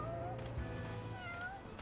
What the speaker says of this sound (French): Il y a le chat qui miaule pas loin